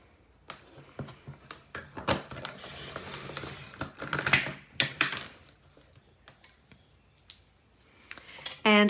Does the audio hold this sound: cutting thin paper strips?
yes